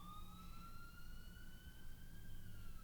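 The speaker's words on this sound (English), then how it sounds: "you can hear a siren outside" A siren wails outside, its rising and falling tone steady and fairly faint, heard from a distance over quiet background hum.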